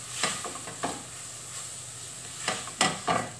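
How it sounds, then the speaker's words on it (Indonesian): Curry with black pepper and cumin is stirred in a hot pan, with a soft sizzle underneath and several scraping strokes that come in short bursts, with no talking. "Kita aduk."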